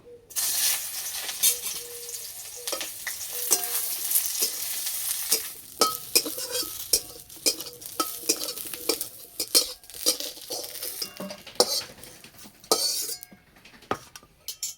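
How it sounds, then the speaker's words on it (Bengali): Eggplant pieces fry in hot oil with a steady sizzle. Spatula stirs and scrapes the pan in repeated close taps and clinks throughout. "প্রথমে বেগুনগুলো ভেজে তুলে নেব।"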